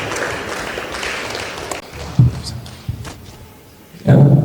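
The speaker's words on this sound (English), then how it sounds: "So can we put our hands together for Mr. Sotomi as he makes his way to the stage?" At a cerebral palsy seminar for health workers, an audience claps for a speaker heading to the stage, a soft scattered patter mixed with voices and a few thumps, swelling louder at the end.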